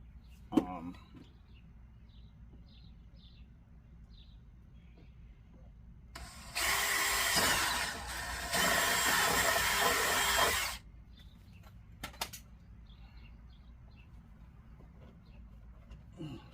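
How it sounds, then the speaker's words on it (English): A power drill whirs steadily for several seconds drilling a hole in an Infiniti QX80 while installing a horn, pausing briefly mid-way, amid a quiet space with faint background noise and a few soft knocks. "I have to drill right there."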